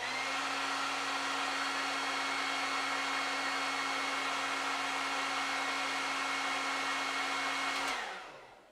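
Hair dryer blowing on freshly painted miniature figures, a steady loud whirring roar with a constant hum that runs unbroken for several seconds, then cuts off abruptly at the end.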